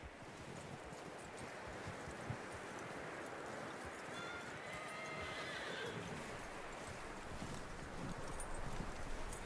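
A horse in Red Dead Redemption 2 gives a long whinny in the middle of the scene, faint against a steady bed of wind and outdoor ambience, with a few soft hoof sounds.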